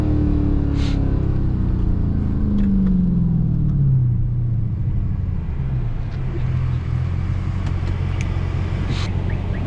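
Dodge Hellcat with a supercharged engine driving on a mountain road, a steady loud rumble with a gliding pitch as the car accelerates and eases off, heard from inside the cabin.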